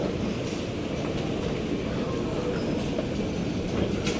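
Station rumble of a Singapore MRT train, a steady low roar of rail and crowd noise filling the whole stretch at constant loudness.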